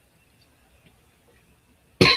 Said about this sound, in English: The cough is sometimes the worst part.